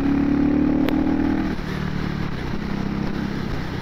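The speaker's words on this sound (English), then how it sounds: "today I'm out on my new motorcycle." A CCM Mark 1 Spitfire motorcycle engine rumbles steadily and loudly throughout as it rides along, with a brief clatter early on and no talking.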